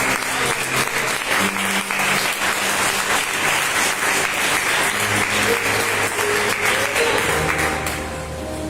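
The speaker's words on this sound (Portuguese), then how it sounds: "as suas palmas glorificam o nome de Deus" Church congregation applauding to glorify God during a Portuguese-language worship service, steady dense clapping throughout that thins and fades near the end as a low organ or keyboard tone emerges.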